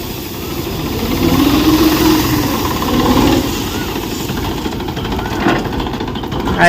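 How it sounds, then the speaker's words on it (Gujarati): A steady, loud tractor engine rumbles and chugs continuously throughout at a village farm, with a low vibrating drone and some rattling. "હવે જો ટ્રેક્ટર હાલે છે"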